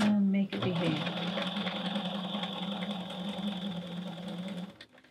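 Sewing machine stitching along mesh fabric on a bag, a steady close, loud mechanical whirr running for several seconds before stopping abruptly near the end.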